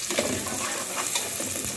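Garlic frying in oil for garlic-and-oil pasta in a pizzeria kitchen, a brief continuous close sizzle with soft stirring, no voices.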